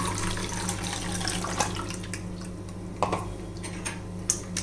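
Water pours and splashes into lemon juice, with a few soft knocks and drips, close by and without talk.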